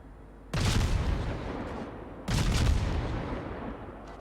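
Two heavy booming salvos from a Tier V Soviet destroyer's guns in World of Warships, each a sharp loud blast trailing into a long rumbling decay, roughly two seconds apart.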